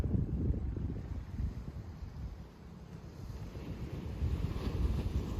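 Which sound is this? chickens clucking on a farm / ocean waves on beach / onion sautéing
ocean waves on beach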